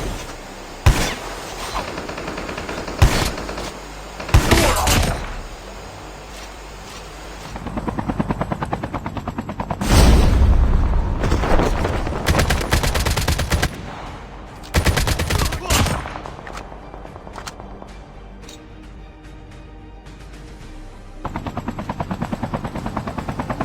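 Gunfire rings out in a Call of Duty Mobile battle royale match, with repeated bursts and single loud shots over a constant helicopter-like drone, some near and some farther off.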